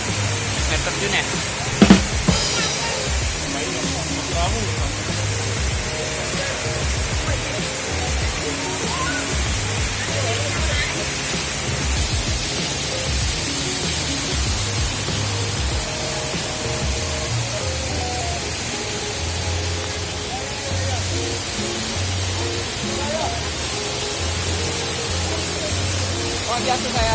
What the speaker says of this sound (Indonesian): kita ada di Jewel air terjun.